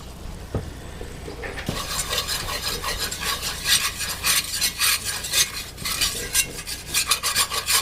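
Flour being stirred in a pot to cook out its raw taste, a utensil scraping and rasping steadily along the bottom in a continuous close rhythm, with no voices.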